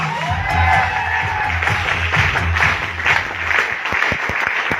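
Audience applause at a youth empowerment seminar in Amritsar, dense clapping with sharp individual claps standing out near the end, over a low hum and some background murmur.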